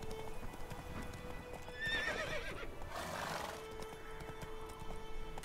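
Geralt's horse Roach in The Witcher III video game whinnies with a rising, quavering neigh around the middle, over steady hoof clip-clop and ambient game sound, no voices.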